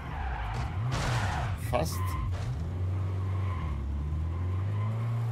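A rally car in the WRC racing game skids with a steady engine drone and tyre noise throughout, while someone talks over it.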